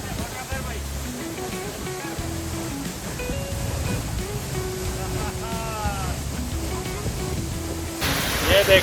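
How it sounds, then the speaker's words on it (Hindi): Tiger Waterfall, a 312-foot drop, roars as a steady broadband rush of falling water close by, with music playing over it and a burst of louder spray noise near the end. "ये देखिए दोस्तों, ये है वाटरफॉल।"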